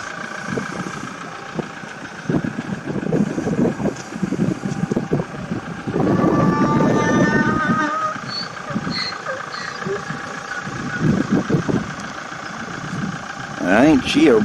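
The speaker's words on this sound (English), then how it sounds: "It also has that same sort of diesel engine sound effect." A Toyota Hilux extended-cab 4WD truck's diesel engine idles with a steady low rumble under someone talking close by throughout, with some wind noise.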